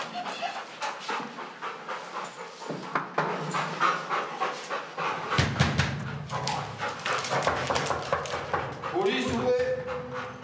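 A police sniffer dog pants rapidly and steadily while searching an apartment in Marseille, the breathing close and continuous, with footsteps and faint background voices around it.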